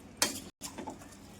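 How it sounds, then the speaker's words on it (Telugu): Soaked rice being gently stirred into chicken pulao in a pot, a soft scrape of the spoon and a couple of light clinks against the vessel, close and quiet. "ఒక్కసారి స్లోగా కలపండి పైనుంచి"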